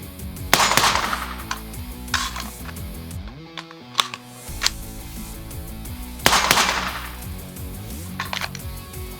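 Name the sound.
gunfire at a shooting range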